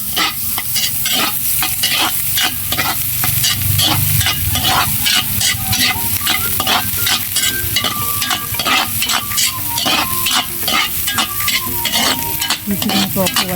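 Onions, garlic and ginger sauté in a pan, loud close sizzling with rapid, continuous scraping and stirring strokes in a busy rhythm, no voices.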